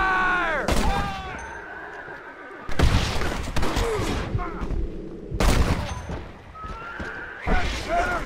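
Gunfire in a Red Dead Redemption shootout, loud bursts of shots breaking out in clusters over a game soundscape with horse whinnies and dramatic music, punctuated by heavy booms.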